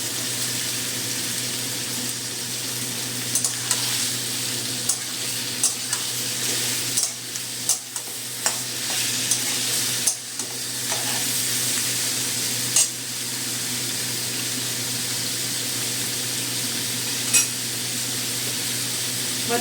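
Ridge gourd frying in a pan with green chillies while being stirred, a continuous close sizzle with scattered scraping knocks from the utensil.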